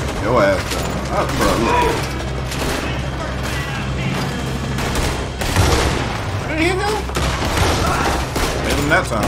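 Red Dead Redemption 2 gunfight with scattered shots and bursts of fire from several guns, mixed with mechanical clatter and heavy background noise, while voices talk over it throughout.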